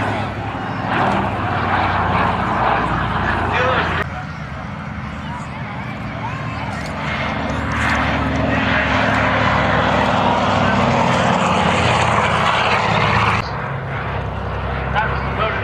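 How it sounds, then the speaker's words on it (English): Low pass by a DC-3 Dakota propeller aircraft at an airshow at Church Fenton, a loud sustained engine drone that swells and stays near, with a commentator talking throughout over a PA. "he's coming in really low ahead of you now. Nice pass for the DC-3 Dakota."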